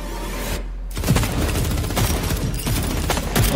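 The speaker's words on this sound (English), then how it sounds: "why are they shooting at her?" Gunfire in a Honkai Impact 3rd animated scene, a dense, continuous barrage of shots with a deep rumbling low end, loud and sustained after a brief silent gap.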